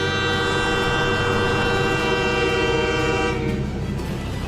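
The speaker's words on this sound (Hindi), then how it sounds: "पहली बार पूर्वोत्तर के एक और अहम राज्य मिजोरम की राजधानी आइजोल में रेल की सीटी सुनाई दी।" A train horn sounds in a long, sustained, loud blast at Aizawl, Mizoram, over the rumble of the train, then cuts off near the end.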